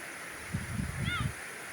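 Water waves washing in at a swimming spot, a soft sloshing surge rising and falling over a steady rushing background, with a voice faintly present nearby.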